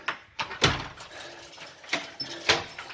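A home door is pulled shut after returning indoors from outside, giving a few sharp knocks and thuds with light rattling, close and fairly quiet, with no talking.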